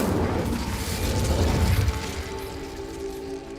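Incendio spell lighting a brazier in the video game Hogwarts Legacy, a loud, rumbling whoosh of flame bursting at once and then fading into a lower steady burning tone.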